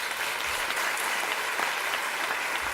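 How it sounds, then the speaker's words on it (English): Steady applause from an audience at an evening of sacred Sikh music, dense clapping filling the whole stretch at an even level with no voices over it. "Please join me in giving a very warm round of applause to the performers"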